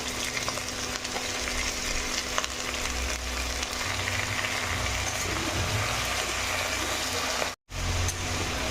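Onion and pumpkin pieces sizzle steadily in a hot pan, loud and close. The frying hiss runs without a break, with faint stirring scrapes, apart from a brief dropout near the end.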